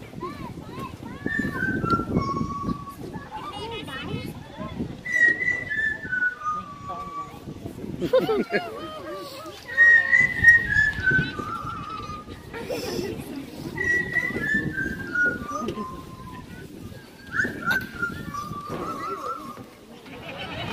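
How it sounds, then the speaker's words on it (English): A parrot gives a series of bright, descending whistles about five times, each a short falling glide, with a person talking steadily underneath during a live bird show at a safari park. "Little Rob, he's ready to whistle."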